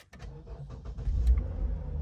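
A 2016 Lexus IS 300 engine starts by remote starter, cranking briefly and then catching into a steady low idle, heard close and alone.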